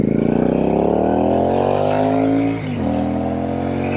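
A Royal Enfield Shotgun motorcycle with AEW slip-on exhaust pipes revs up in a rising, harmonic engine note. It dips briefly near the end, then holds steady, loud and close, with no talking.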